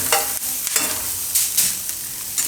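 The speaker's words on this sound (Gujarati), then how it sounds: "તો સિંગદાણા શેકાઈ જાય ને લસણ ને થોડુંક લાલ થઈ જાય એ રીતે આપણે શેકી લેવું એને" Peanuts, garlic and red chillies roast in a small amount of oil for aloo thecha, giving a steady sizzle broken by several sharp scraping stirs of a spoon in the pan, close and loud with no talking.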